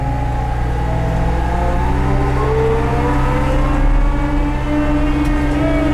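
A 2004 Mustang ML72 wheel loader in rabbit mode at full throttle, its engine a loud, steady, close drone with a constant low rumble, holding level throughout with no voices.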